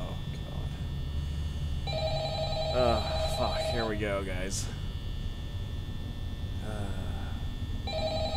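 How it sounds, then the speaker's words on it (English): Repeated electronic telephone ringing in Five Nights at Freddy's, a couple of clear bursts of rings, with someone talking in between. "I can hear the fucking phone ringing."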